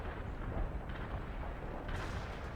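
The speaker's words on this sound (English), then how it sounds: "Artillery strike on the way." Distant artillery rumble in the strategy game World in Conflict, a low continuous roar of shelling with a brighter burst near the end, heard without speech.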